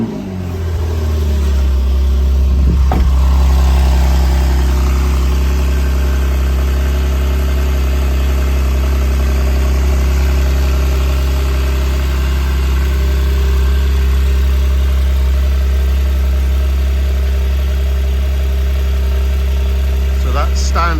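A 2017 Porsche 911 Carrera 3.0L twin-turbo (991.2) with standard exhaust fires up with a brief rising burst, then settles into a steady, deep, close idle rumble that holds throughout.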